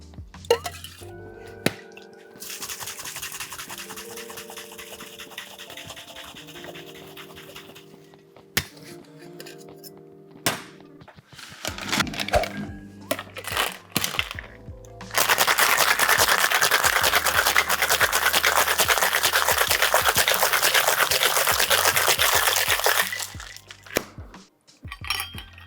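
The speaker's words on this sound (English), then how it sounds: "Then we give it a dry shake for 10 seconds and a vigorous wet shake for 5" A cocktail shaker rattles hard with ice for a coffee cocktail made with egg white, first a stretch of rhythmic shaking, then a louder, denser burst of vigorous shaking, with clinks of bar tools and glassware around it.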